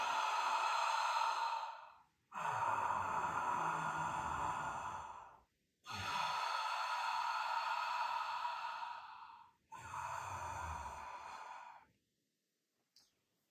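Slow ujjayi breathing with a constricted throat, four long, even breaths alternating inhale and exhale, each a soft, oceanic rasp heard close and alone with brief pauses between.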